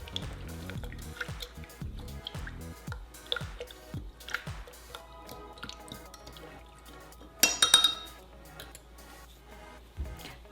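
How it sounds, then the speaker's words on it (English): A virgin margarita being stirred in a glass, with soft repeated swishes, drips and light clinks of the spoon, quiet and close, plus one louder clatter near the middle. "Let's stir."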